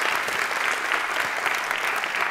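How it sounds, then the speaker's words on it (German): A seated audience at a panel discussion claps steadily throughout, with dense, even applause close by and no lulls or voices standing out. "Das ist Ihr Applaus und ich bitte auch um Applaus."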